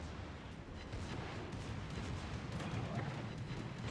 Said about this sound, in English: Nah, he's just getting his secondaries on us